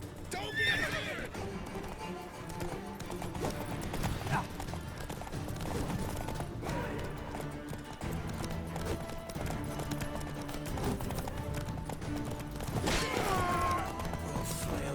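In The Witcher 3 video game, a horse gallops with rapid rhythmic hoofbeats and whinnies loudly, under a dense mix of combat noise, music and shouting voices.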